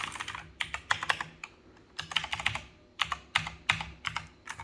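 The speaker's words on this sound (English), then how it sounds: "It sounds like a mechanical keyboard." Typing on a Huoji CQ84 Bluetooth mechanical keyboard produces close, clicky keystrokes in quick clustered bursts separated by short pauses, heard alone.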